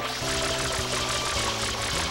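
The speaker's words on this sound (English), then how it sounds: "let's refill the water" Water refilling in the video game Super Mario Sunshine, a steady pouring, rushing stream of game audio with tonal music-like lines underneath, continuous and fairly loud for about two seconds.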